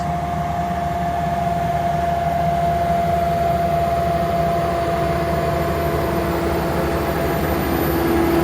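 A Fendt tractor's engine drones steadily and low at modest revs while working a field tramline, with a faint whine above it, a constant mechanical rumble without changes in pitch.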